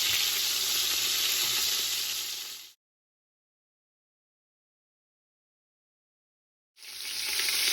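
Regular Italian sweet and hot pork sausage sizzling and browning in a pan, a steady close frying hiss that cuts out to silence midway and then resumes.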